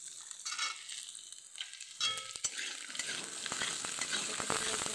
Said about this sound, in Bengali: আমি মটরশুঁটি দিয়ে দেবো।